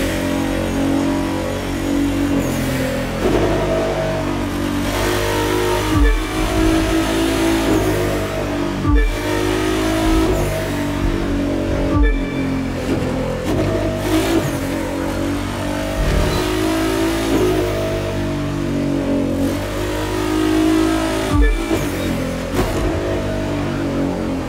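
Nissan GT-R Nismo GT3 race car in The Crew 2, engine revving and droning loudly throughout with repeated gear-shift dips, on a game drive from St. George, Utah to Las Vegas.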